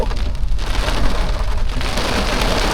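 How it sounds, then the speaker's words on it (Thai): Steady, heavy rain pours down continuously on a mountain near Hin Tang waterfall in Nong Wua So, Thailand, a dense hiss of drops striking surfaces close by, with no voices. "ฝนตกอีกแล้วครับ"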